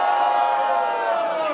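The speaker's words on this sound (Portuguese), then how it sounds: "Quem acha que o Cássio e o Igão foi mais criativo no segundo round e faz barulho" An audience at a duo battle semifinal cheers, shouts and whoops together in a loud, sustained roar that fades slightly at the end.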